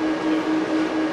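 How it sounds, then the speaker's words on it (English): Virgin Rail Class 390 Pendolino electric train in a train simulator game, a steady close electric hum with a sustained tonal whine, alone and without talk. "the train of the future, the Virgin Rail 390 Pendolino"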